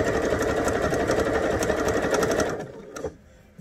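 A sewing machine runs steadily, stitching fabric for a bell sleeve shirt from Simplicity pattern 8466, a close continuous mechanical whir that slows and stops in the last second.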